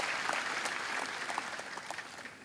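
A church congregation applauds during a worship service, a dense patter of many hands clapping at moderate distance, fairly quiet and continuous without speech over it.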